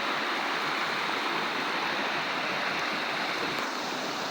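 Steady rushing water of a mountain river flows continuously, a dense broadband wash heard up close, with no voices.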